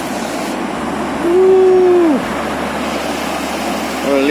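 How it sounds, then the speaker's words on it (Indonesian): Fast-flowing flash-flood water rushing past a road washed out by the flood, a loud steady roar of churning current filling the whole stretch, with a brief tonal hum rising over it midway. "Arusnya deras banget ini kelihatannya."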